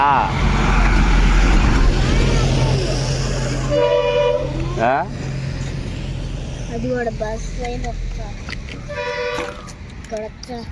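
A bus passes close by with a loud, heavy engine rumble, and horn toots sound near the middle and again toward the end while voices talk nearby.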